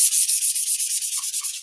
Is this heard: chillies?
no